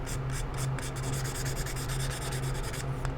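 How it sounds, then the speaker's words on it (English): A plastic part from a 1/25 scale MPC Torque Trike model kit is sanded by hand, a close, steady rasping scrub in quick repeated strokes with no voices. "make sure that all your sanding looks good"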